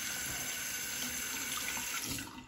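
Running tap water streams into a sink while a Merkur safety razor is rinsed under it, a close, continuous splashing hiss that stays steady and trails off at the very end.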